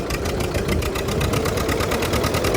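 A Swaraj 735 tractor engine running steadily, a loud close rhythmic diesel chug with a fast even pulse and no pauses, heard alone.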